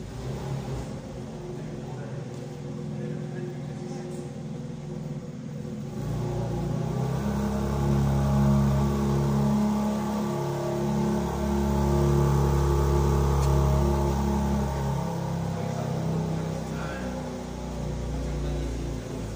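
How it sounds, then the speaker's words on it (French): A rented BMW M Competition revs inside a parking garage in Monaco, starting as a quieter idle and swelling after a few seconds into a loud, sustained, rumbling engine roar that rises and falls with the throttle, echoing off the concrete. "M compétition, j'étais pas prêt. Écoutez-moi ce bruit."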